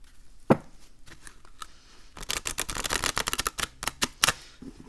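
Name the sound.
shuffling a tarot card deck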